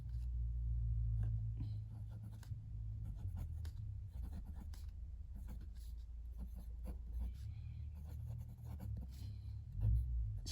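Kaweco Sport fountain pen with a 1.1 calligraphy steel nib scratching across paper in close, continuous strokes, a soft scritching texture over low room rumble.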